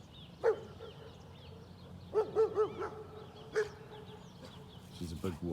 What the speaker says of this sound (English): She's barking at the neighbours.